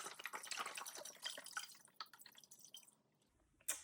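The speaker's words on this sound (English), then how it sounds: "All right, this is chicken broth. So I'm gonna pour that in 4 cups" Chicken broth pours from a 32-ounce box into an Instant Pot, a close, quiet run of splashing and dripping that thins out toward the end before a final small clatter.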